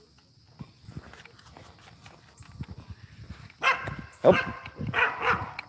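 Blue heeler dogs bark in a few sharp bursts late on, fairly close, after scattered footsteps and shuffling outdoors, with a brief spoken exclamation.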